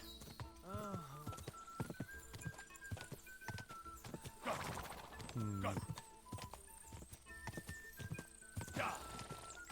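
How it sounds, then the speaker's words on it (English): Rhythmic hoofbeats of a galloping horse in the video game Kingdom Come Deliverance 2, with a couple of loud whinnies and snorts breaking through, while a voice talks intermittently over the running hooves. "Come on, you damn horse."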